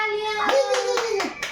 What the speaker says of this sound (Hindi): ये तालियां